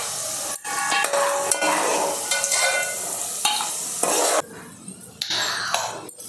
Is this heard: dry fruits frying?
yes